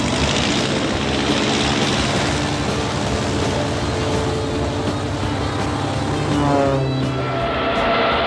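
A cartoon propeller airplane's engine roars steadily and loudly throughout as it takes off, a dense continuous drone with no pauses.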